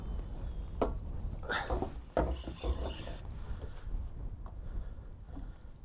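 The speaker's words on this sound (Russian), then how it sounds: "Ветер такой сильный." Strong wind blows across the Western Dvina river while fishing from a boat, a low rumbling gusty roar with intermittent wooden knocks and clatters nearby.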